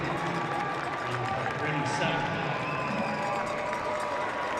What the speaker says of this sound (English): They take the Cardinal Championship game 42-7 as their crowd comes to life.